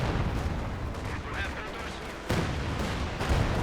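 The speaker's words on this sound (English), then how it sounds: "really intent on getting that flak half-track with his Katyushas" Katyusha rocket artillery volleys in the real-time strategy game Company of Heroes 2, a dense rushing barrage with a sharp blast near the middle, heard under ongoing battle noise and a commentator's voice.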